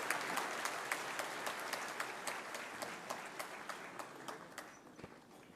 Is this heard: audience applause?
yes